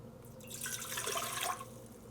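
Two cups of water poured into a container for pickle brine, a steady splashing stream that builds and fades over about two seconds, close and moderately loud with no talking.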